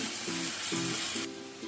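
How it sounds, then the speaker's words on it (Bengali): Garlic paste frying in oil with onions gives a continuous bright sizzle, with a few stirring scrapes repeating at a steady pace. "রসুনটাকে একটু সময় নিয়ে ভেজে নেব, যতক্ষণ না এর কাঁচা গন্ধটা চলে যায়"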